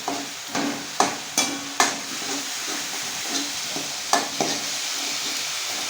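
Spices being sautéed in hot oil in a home kitchen for pav bhaji, a steady close sizzle and hiss with several sharp scraping stirs of a spoon against the pan, no talking.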